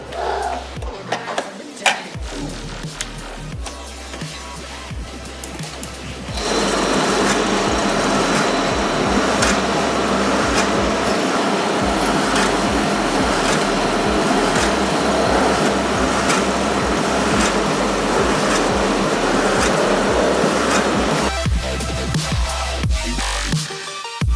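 Repaired, dirty clothes dryer starting its first test run, handling clunks first, then a steady loud mechanical drone with a rhythmic tumbling rattle for about fifteen seconds before it stops.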